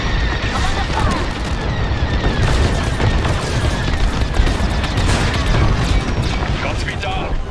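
Dense, continuous laser-cannon fire and explosions from starfighter combat in Star Wars: Squadrons, a loud, rumbling barrage with steady rapid bursts that never lets up.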